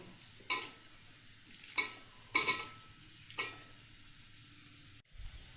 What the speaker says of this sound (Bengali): গরম জলে এখন ডাল আর ডালিয়াটা দিয়ে দেবো।